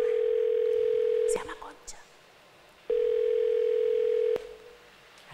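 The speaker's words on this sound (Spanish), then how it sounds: "pues la llamamos por teléfono" A steady electronic telephone tone sounds in two long bursts on a live call, fairly loud, with a brief pause of speech between them as a voice talks.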